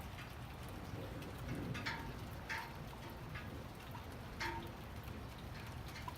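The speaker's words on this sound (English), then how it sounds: "I really filmed up here in the rain." Light rain falls outdoors in California, a soft, steady patter with scattered drops ticking on nearby surfaces, faint and continuous throughout.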